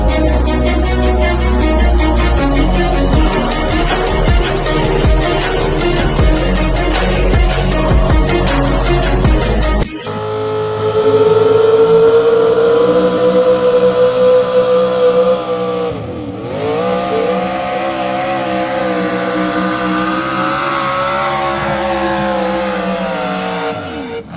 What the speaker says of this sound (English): Some of the meanest trucks and tractors will come rolling in.